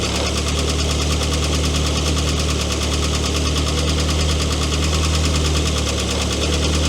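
A car engine runs at a steady idle during a battery charging test with a handheld battery tester, its low, even rumble continuous and close throughout, with no talk.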